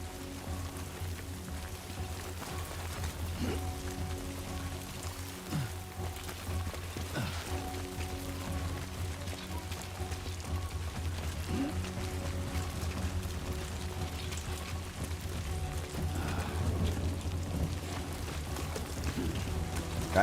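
Timefall rain falling in a video game, a steady, even wash of rainfall that holds at a constant level throughout, with low sustained tones beneath it and no voices.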